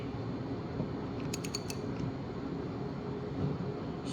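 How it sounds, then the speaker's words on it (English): A ratchet tightens a Wheeler REX pipe clamp on a pipe, giving a few quick, faint clicking and creaking strokes over a steady background hiss. "you use the ratchet. And you continue to tighten until the flow is stopped."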